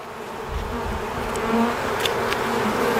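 Honey bees buzz densely around an open beehive during an inspection of brood frames, a close, continuous droning hum.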